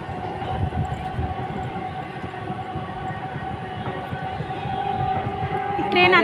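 A train pulls away from the platform with a continuous rumbling roll and faint rhythmic clatter of wheels, steady and nearby, with people talking over it and a brief rattle at the end.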